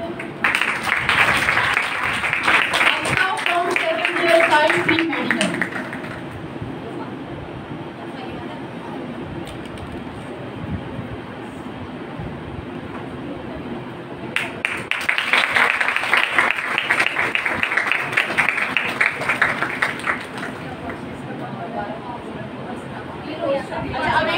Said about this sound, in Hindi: बहुत सी तालियों में।